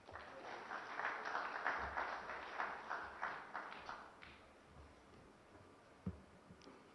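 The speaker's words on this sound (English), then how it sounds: "So huge round of applause, please" Audience applause at a business awards ceremony, a dense burst of clapping in a large room that gradually fades to a few scattered claps and a faint thump.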